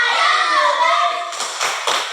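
Schoolchildren in a classroom chant together, then break into a rhythmic spirit clap: three sharp, close group claps spaced evenly at the end.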